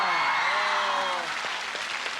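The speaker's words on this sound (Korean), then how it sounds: "아까와는 달리 박수가 많이 나오고 있잖아요" A studio audience at a talk show with the pop group H.O.T. breaks into applause, a broad steady wash of clapping with voices heard over it at the start.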